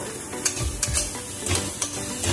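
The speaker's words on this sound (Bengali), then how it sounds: "মশলাটা ভালো করে কষাবো" Spice paste with ginger paste is stir-fried in a pan: a steady sizzle with repeated scraping stirs of the spoon, up close and unbroken by voices.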